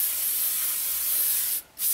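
An airbrush blasts out the last bit of leftover paint during cleaning, a steady close hiss of spray that cuts off briefly near the end before resuming.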